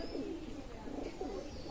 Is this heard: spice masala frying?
no